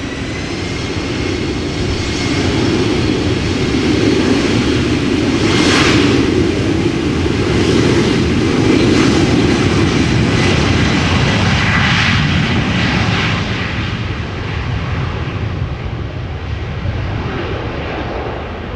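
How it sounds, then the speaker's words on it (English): An Embraer 190 jet departing Amsterdam Schiphol for Geneva, a sustained loud engine roar at moderate distance that holds steady for the whole stretch and eases slightly near the end. "now Embraer 190 going to Geneva, flight 1931"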